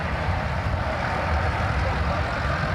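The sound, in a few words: pulling tractor engine at a tractor pull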